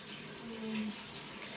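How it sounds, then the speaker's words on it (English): Tap water running into a bathtub, a steady broadband rush and splash filling the whole clip at moderate volume, with no clear talk over it. "Come cut this water off."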